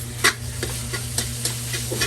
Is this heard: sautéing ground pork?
yes